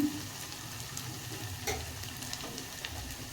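Onions and potatoes frying in a pan, a steady close sizzle and crackle with occasional soft stirring scrapes, no voices.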